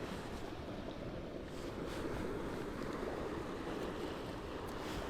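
Ocean waves wash steadily onto the shore under the setting sun, a continuous close rush of surf with wind noise and no voices.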